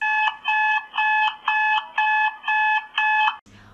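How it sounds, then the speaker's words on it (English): An alarm clock sounds seven loud, evenly spaced electronic beeps in a rapid, repetitive pattern, then cuts off abruptly. "Is your alarm clock putting you in a grumpy mood when you're waking up in the morning and it sounds like this?"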